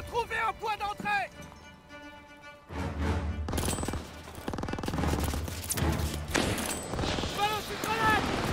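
Gunfire rattles through a street battle in Aachen in 1944, dense bursts and volleys sustained across most of the stretch, with shouted voices and music woven through the fighting.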